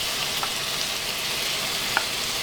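Beef sizzles and fries in a hot tagine with ghee, a steady close hiss with a couple of brief pops, no speech.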